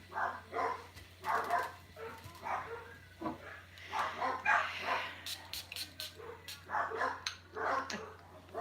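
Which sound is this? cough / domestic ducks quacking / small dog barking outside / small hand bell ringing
small dog barking outside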